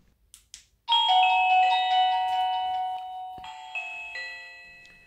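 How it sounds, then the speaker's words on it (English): A few soft clicks, then a clear electronic chime from a Reolink wired WiFi video doorbell rings out in sustained, ringing tones that slowly fade, with a second softer chime near the end. "the sound of the doorbell and chime"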